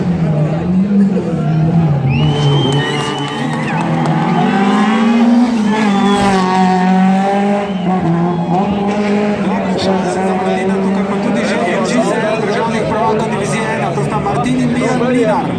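Rally cars race past on the first special stage of the Rally Vipavska dolina near Ajdovščina, engines roaring and revving amid crowd noise, while a commentator talks almost throughout.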